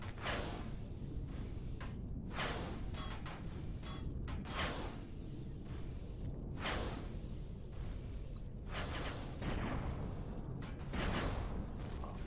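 Artillery turrets fire repeatedly in the space-survival game Empyrion Galactic Survival, a rapid irregular series of sharp booming shots and whooshes over a constant low rumble.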